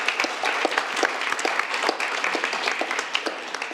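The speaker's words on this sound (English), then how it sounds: "So let's give them a round of applause." A room full of people applauding at the Geneva Peace Week 2021 closing ceremony, dense steady clapping sustained throughout at fairly close range with no voices over it.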